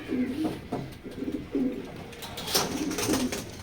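Racing pigeons, including a grizzle pair, coo at a loft. Low throaty calls repeat in a steady pulsing rhythm, close by, with faint fluttering and chirps behind.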